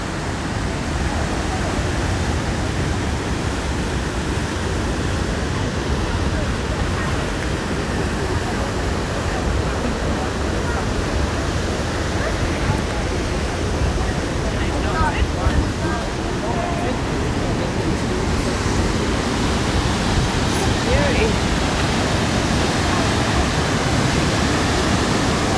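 Athabasca Falls in Jasper National Park roars as a loud, steady broadband wash of falling water, constant throughout with no break.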